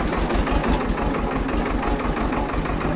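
A tractor engine idles and chugs with a steady low rhythmic throb, close and loud, running alone in a field with no voices.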